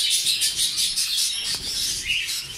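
Budgerigars chirping inside a breeding facility, a dense, continuous chatter of high, rapid tweets and warbles from many birds close by, steady and lively with no talking.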